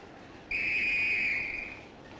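A departing train in a 1969 railway film sounds a single clear whistle blast lasting about a second and a half, sharp and fairly near over a faint background hiss.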